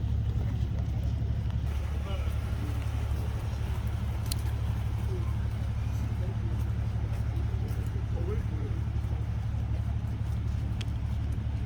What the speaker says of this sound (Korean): 또 다른 한 대의 소방 차량 지휘본부 차량이 후진을 해서 들어가고 있습니다